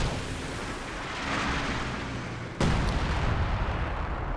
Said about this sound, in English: Going into the concentration barrage now as well